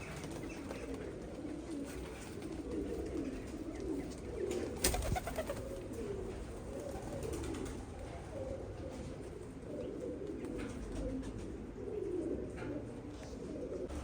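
Pigeons cooing softly in a steady murmur, with occasional rustling and a brief flutter of wings midway.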